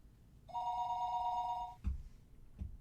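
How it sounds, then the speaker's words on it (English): A telephone rings once in a late-night phone call scene from the Higurashi visual novel, a clear electronic bell tone lasting over a second, followed by two soft thumps, with no talk. "Late night phone call."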